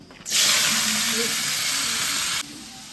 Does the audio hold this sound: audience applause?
no